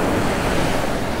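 Ocean surf rolling up onto a beach at dusk, a steady, loud wash of breaking waves with wind noise buffeting the microphone throughout, no voices.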